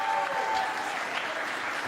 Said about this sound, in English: Hear the crowd reaction there.